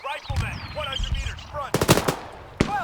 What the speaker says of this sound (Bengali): ফায়ার করা শুরু করেছে সবাই